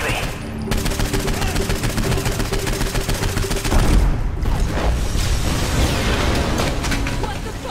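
Bombs and gunfire pound a compound in the video game Saints Row IV: loud, continuous rattling bursts and booms, with a heavier blast partway through and a dense roar of gunfire after it.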